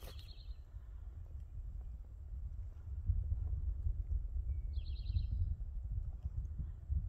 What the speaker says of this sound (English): Hearing some birds come out this morning.